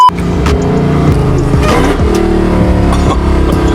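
Cammed, 1100-horsepower Dodge Challenger or Charger Hellcat with a ported supercharger, revving hard and loud up close, its choppy, lumpy idle bursting into rising and falling throttle blips.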